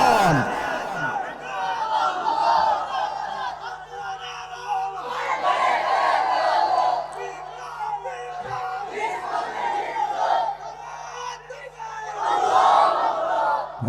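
Large crowd at an outdoor political rally in Cox's Bazar chanting slogans in loud, rhythmic bursts of massed voices that swell and fade in waves, with a steady hum underneath.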